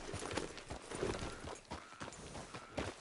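Hooves clip-clop steadily at a walking pace as a horse is ridden in the video game Red Dead Redemption 2, fairly faint and close.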